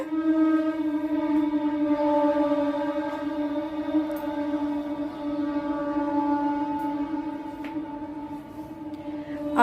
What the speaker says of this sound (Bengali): ট্রেন যে গেল তো সেই জন্য কথা বলতে পারলাম না, এতটাই জোরে আওয়াজটা, থ্রু ট্রেন গেল মনে হয়